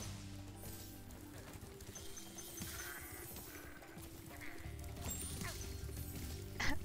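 Sheep bleat repeatedly amid a busy layer of Spyro the Dragon game music and effects, with a continuous noisy backdrop throughout.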